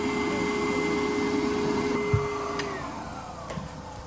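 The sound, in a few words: Foredom Wolf sandblaster powered up, blasting to empty the nozzle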